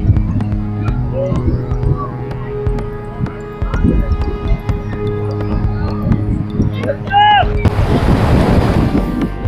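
Surf rolls in at Alibag beach, heard mixed with wind buffeting the microphone, while someone talks. A louder wave rushes in near the end.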